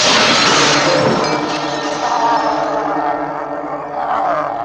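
Thick glass shatters in a loud burst at the start, followed by a long scatter of falling shards and debris that tapers off over several seconds, with no talking.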